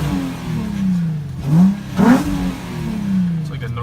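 An Infiniti G35 engine revving after an exhaust repair, the pitch rising and falling in two quick swells around a steady idle, close and fairly loud with no one speaking over it.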